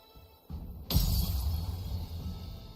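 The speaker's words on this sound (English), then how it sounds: "With a sound like shattering glass, Altria's barrier erupts into pieces." In the video game Goddess of Victory: Nikke, a barrier shatters like glass with a sudden loud crash that bursts into a bright, lingering spray of breaking shards, preceded by a low rumbling build-up.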